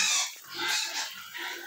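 Pigs on a small farm grunt and snuffle softly during feeding, in a few short, uneven bursts nearby.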